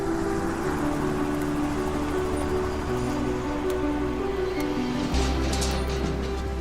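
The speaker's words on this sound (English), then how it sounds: "Now that's a cool machine, Jimmy. Gyrocopter." A gyrocopter used for aerial cattle mustering in the outback flies overhead, its steady droning rotor and engine hum continuous and moderately loud, with a deeper rumble swelling near the end.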